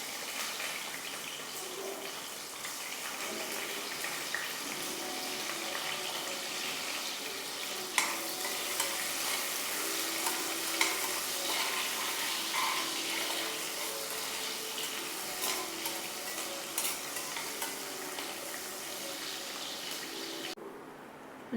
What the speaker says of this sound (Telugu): ఇలా మంచిగా వేగాక ఆనియన్స్ వేసుకోవాలి